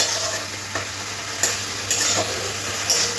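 Spices and tomato being stirred and fried in a pan, a constant loud sizzle with brisk scraping strokes of the spoon every half second or so, close up and without talking.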